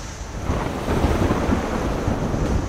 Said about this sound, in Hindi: कराची में गर्दालूद हवाएं चलना शुरू हो गईं।